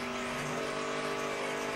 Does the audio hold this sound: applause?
no